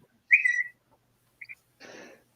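A sharp, shrill whistle sounds once, then two brief chirps, followed by a short breathy rush of noise, all against near silence.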